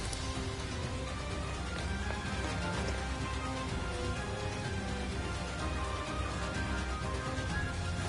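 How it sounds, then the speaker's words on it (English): Heavy rain pours down steadily in the video game Persona 5 Strikers, a dense, even hiss of water drumming on surfaces that fills the scene without pause and has no voices over it. "It just started pouring all of a sudden."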